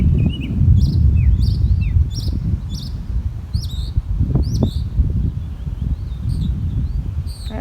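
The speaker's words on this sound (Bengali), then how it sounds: "আর এইখানে পাখিগুলো ডাকছে কত।" Several birds call in a home garden with roses, repeated sharp chirps and tweets sounding at a moderate distance over a low rumbling background of wind or traffic, no voices.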